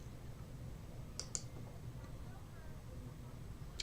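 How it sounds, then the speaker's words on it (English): Two quick, faint mouse clicks just a beat apart over a quiet room hum, then near silence. "So I'm going to click record."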